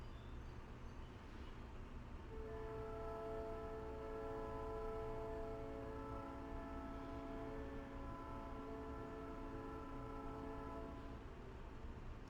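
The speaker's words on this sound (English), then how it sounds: "Sounds like there's an angry train here in Knoxville." A train horn in Knoxville sounds in a long sustained chord over a steady low rumble of rail traffic, fairly faint and distant throughout.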